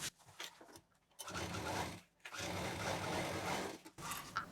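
Sewing machine double-stitching zip piping on a homemade jeans bag, running in steady whirring bursts of about a second or more, broken by short pauses, close and moderately loud.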